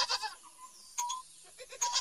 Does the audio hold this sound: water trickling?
no